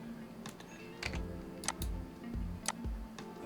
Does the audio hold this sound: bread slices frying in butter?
no